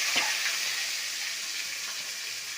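Coriander and curry leaves frying in hot oil with mustard seeds give a bright, steady sizzle. It is close and even, with a brief crackle at the start and no talking.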